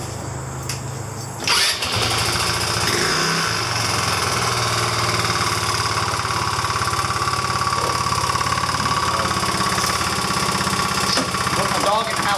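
A 2009 Genuine Buddy 125 scooter, freshly fitted with a new drive belt, starts up abruptly after a brief quiet moment, then runs with a loud, close, steady buzzing putter on a driveway test ride.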